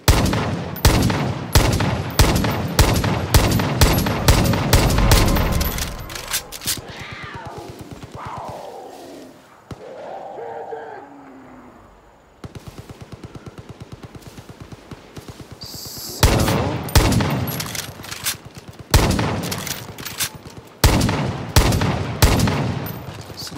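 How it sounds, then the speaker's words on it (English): Elite fourth-tier handgun firing in Far Cry New Dawn, loud rapid shots in long close bursts, a quieter pause midway, then more quick volleys. "This is the handgun of the 4th category, the latest one, with the highest firepower"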